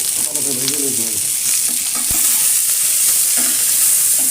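Spices are stirred and fried in a pan for a curry of small fish and green tomatoes, giving a loud, even sizzle with scraping stirs and a brief faint hum near the start.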